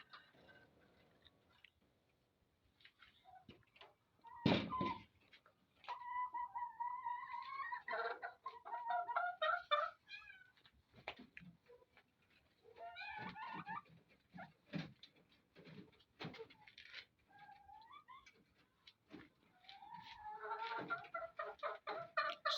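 Chickens in a converted garage coop cluck and squawk in scattered close bursts, with a sharp clatter and soft pecking noises between calls.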